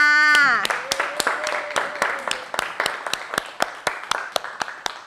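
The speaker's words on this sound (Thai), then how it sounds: "ขอให้นักเรียนทุกคนนะคะปรบมือให้น้ำอิงหน่อยค่ะ" A class of students claps in a steady, fairly regular rhythm after a teacher's brief spoken request at the start, the claps close and evenly spaced.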